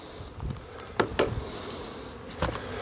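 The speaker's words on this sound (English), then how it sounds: "lots of bees there." Honeybees in an opened horizontal hive during winter feeding, with a steady low buzz and a few brief louder bursts, close by and with no talking.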